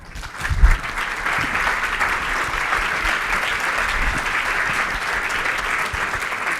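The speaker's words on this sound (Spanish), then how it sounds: "De vuelta un aplauso." Sustained applause from a seminar audience in Uruguay, dense steady clapping with a louder burst near the start and no voices above it.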